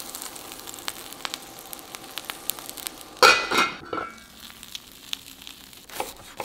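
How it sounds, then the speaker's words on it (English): Grilled cheese sandwiches laid into a cast iron pan over medium heat give a sudden sharp sizzle that fades over a second, amid light clinks of the pan and utensils. "With a cast iron pan over medium heat, we'll add our sandwiches."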